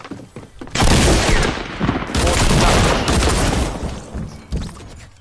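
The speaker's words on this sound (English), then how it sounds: "That's why I can't use the short-range shotgun." Shotgun fire in the Fortnite battle royale video game: heavy, close blasts packed together into a sustained barrage, with brief gaps between volleys.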